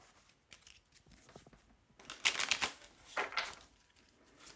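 Oracle feeling cards being shuffled by hand: soft rustling and flicking that builds into a louder riffle midway, close and without talk.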